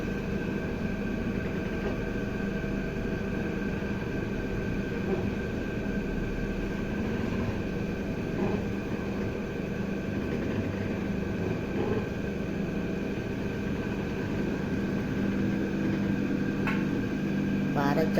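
An oil mill grinding coconut kernels into oil cake, a steady continuous mechanical hum and whine with faint clatter throughout, loud and unbroken while someone speaks over it.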